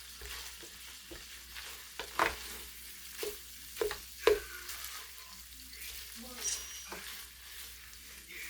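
Ground pork for palabok frying in a pan while being stirred, a low quiet sizzle broken by irregular scraping and clanking strokes of a utensil against the pan.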